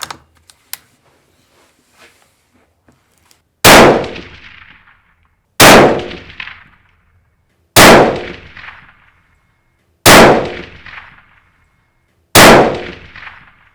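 Five loud rifle shots ring out at an outdoor range, spaced about two seconds apart, each sharp crack followed by a long rolling echo, with faint clicks beforehand and no talk.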